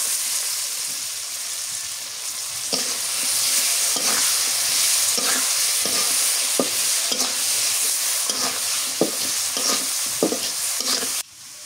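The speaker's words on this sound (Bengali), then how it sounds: "মাছ দিয়ে দিন, চিংড়ি মাছগুলো দিয়ে দিন" Shrimp frying in a pan, a loud continuous hiss of hot oil broken by regular scraping stir strokes, close up with no talking.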